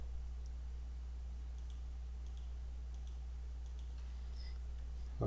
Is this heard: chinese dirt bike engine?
no